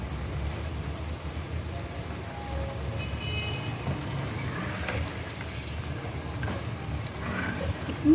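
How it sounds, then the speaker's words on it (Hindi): Taro and mutton fry in a pot with a steady, even sizzle that runs unbroken throughout, close and moderately loud with no talking. "इतनी अच्छी तरह भूनना है कि ये जो अरबी की लेस जो होती है ये बिल्कुल ख़त्म हो जाए।"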